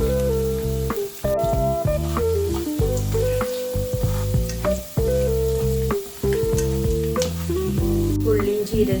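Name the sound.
cumin and fennel seeds sizzling in hot oil for tempering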